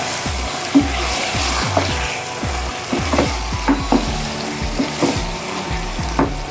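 Kasuri methi and garam masala being stirred into aloo gobi frying in a pan, loud repeated scraping and clacking of the spoon over a continuous sizzle.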